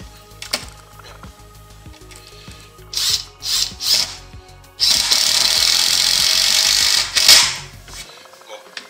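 A Parkside PDSSA 20Li-A1 20V cordless impact driver driving a small screw, with short bursts of motor whir, then a sustained loud rattling hammer of impacts that stops abruptly, and a voice speaking briefly nearby.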